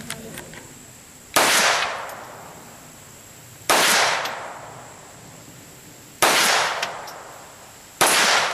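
Four sharp .22 rifle shots ring out one by one at an outdoor range, each a loud crack with a metallic ring from a steel target that fades over about a second, spaced a couple of seconds apart.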